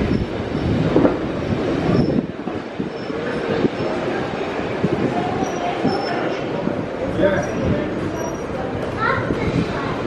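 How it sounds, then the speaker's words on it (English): A heritage train rolls into Llangollen station in Wales, its wheels rumbling and squealing nearby amid an outdoor platform crowd, with children's voices and chatter mixed into the steady noise. "Comes the train."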